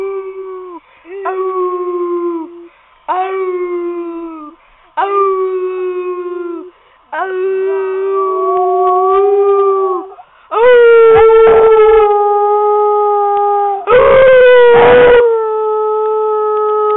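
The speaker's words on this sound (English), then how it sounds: "This has been Piper doing his marvelous howl" A beagle howls close and loud indoors, a series of drawn-out, wavering howls with short breaks between them that grow longer and more intense toward the end.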